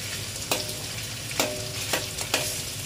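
Fatty pork belly slices fry in a pan with a constant even sizzle, broken by four sharp scrapes or clinks of a utensil moving the meat, close and alone.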